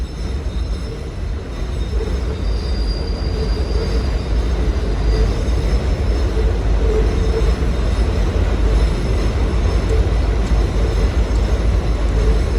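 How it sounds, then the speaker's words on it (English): A train rolls past at night with a loud, continuous rumble of wheels on rails and a faint, thin metallic squeal riding on top, steady from start to finish. "That is pretty cool to see the train go by."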